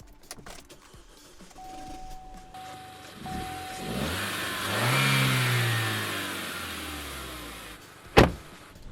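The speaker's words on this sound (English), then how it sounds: "So yeah, let's take it for a spin." Turbocharged six-speed manual hatchback starting up and pulling away, an electric whine and clicks giving way to an engine swelling through revs, easing off, then a sharp thud near the end.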